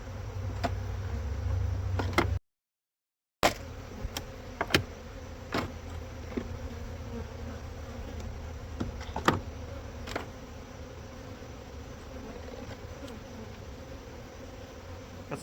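Steady low insect buzzing from honey bees in an opened hive, with sharp clicks and knocks of frames scattered throughout and a brief gap of silence near the start.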